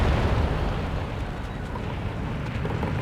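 A Panzer IV tank fires in Company of Heroes 3, and the shot misses, leaving a heavy, low rumbling boom that fades slowly into battle noise, loud and with no talking.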